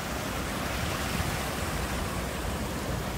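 A waterfall in Kotor, Montenegro rushes in a steady, dense broadband roar, close and unbroken throughout with no voices.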